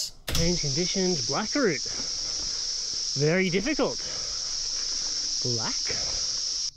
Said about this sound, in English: what's really overpowering is that cicada noise